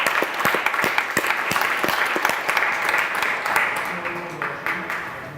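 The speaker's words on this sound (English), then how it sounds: "please let us give you an applause for willing to make the difference" Audience applause at the end of a conference talk on diversity in IT, a dense steady clapping from a sizeable crowd that slowly fades toward the end.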